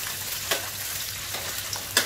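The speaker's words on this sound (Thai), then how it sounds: "ก็จะมีรากผักชีกระเทียมนะคะแล้วก็ขิงฝานค่ะใส่ลงไปเลยค่ะการจะเอามาทำการทอดก่อนนะคะ" Coriander root, garlic and sliced ginger frying in oil, giving a steady close sizzle with a few light utensil clicks and taps.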